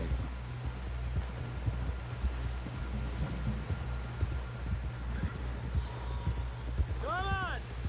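Rhythmic hoofbeats of a horse galloping in the video game Red Dead Redemption 2, a quick steady clip-clop under a low rumble, with a brief whinny-like call near the end.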